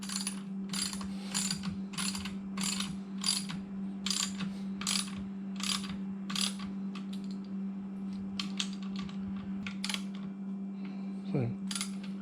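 A stainless lock bolt is tightened on a 1992 Johnson 25 hp outboard with a ratchet, giving a run of quick close clicks in bursts over a low steady hum, with a brief faint voice.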